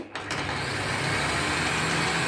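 Parkside PDM 600 B2 bench lathe starting up and settling into a steady running whir at 800 RPM, a continuous close motor hum with no talk.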